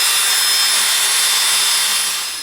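An electric drill fitted with a steel wire brush scrubs rust from the crankcase of a Peugeot 103 moped, a loud harsh continuous whirring grind that eases slightly at the end, with no talking.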